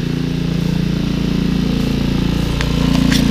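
A Honda lawn mower runs steadily close by in a yard, its engine droning loud and even with a regular pulsing hum throughout, no talk over it.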